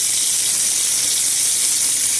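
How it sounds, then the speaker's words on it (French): A hot water tap runs steadily to purge air from a Styx gas water heater, giving a constant, loud, even hiss of flowing water with no breaks. "J'ouvre le robinet d'eau chaude pour purger l'air qui est entré dans le ballon en mettant l'anode."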